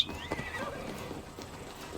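A horse neighs briefly and faintly inside the Assassin's Creed video game, a short whinny at the start fading into low ambient game noise.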